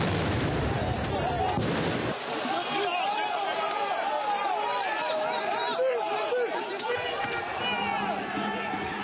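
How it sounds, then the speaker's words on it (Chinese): Protesters throw fireworks during May Day street clashes in Paris, with sharp bangs and crackles, a strong burst early on, and a noisy crowd shouting and chattering throughout. "示威者丢掷烟火，警察的身上还起火燃烧"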